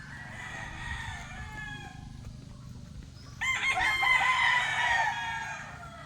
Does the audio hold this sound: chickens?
yes